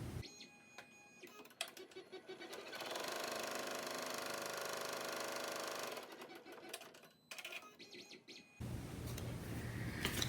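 An embroidery machine stitches a placement line for the back piece of a contour mask in the hoop, its rapid mechanical whirring running loud and steady for several seconds between brief pauses.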